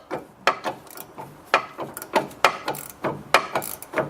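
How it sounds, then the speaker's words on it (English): Ratcheting clicks in repeated short bursts as a sway bar link nut is slowly backed off on a Chrysler 300 front suspension, close and fairly loud with brief pauses between strokes. "we're slowly removing that nut"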